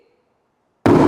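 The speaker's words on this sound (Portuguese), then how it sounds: "Tivemos aí a nossa explosão, meu povo." A small explosion in a chemistry reaction demonstration bursts suddenly out of near silence, a loud close blast that carries on as sustained noise to the end.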